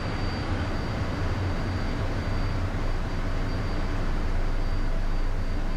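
Private jet climbing just after takeoff on a flight to Phoenix, heard from inside as a steady, loud, broadband engine roar and rushing air with no talking.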